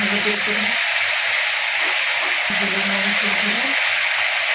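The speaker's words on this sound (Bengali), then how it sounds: "আদা রসুন আদা রসুনটা একটু ভেজে নেবো" Ginger and garlic fry in a pan with a steady, close sizzling hiss throughout, while a voice murmurs faintly in the background.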